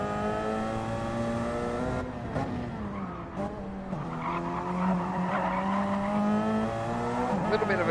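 The number 99 Porsche race car in a racing video game screams with a high harmonic engine whine that rises and dips through gear changes, with tire squeal mixed in, loud and continuous.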